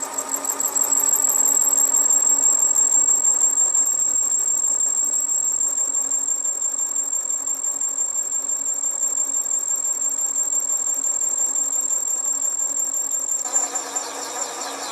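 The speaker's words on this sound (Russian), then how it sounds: "Попробуем обточить этот многоугольник." A lathe turns an Inconel 718 alloy blank for a micro jet engine part, producing a continuous mechanical drone with a thin, high, steady whine over it. The sound holds at a constant level until it shifts near the end.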